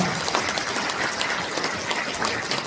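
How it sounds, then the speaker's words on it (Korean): An audience at a Korean lawmaker's legislative report meeting breaks into steady applause, a thick wash of clapping from many hands, fairly loud and unbroken, with no speech over it. "박수 부탁드리겠습니다"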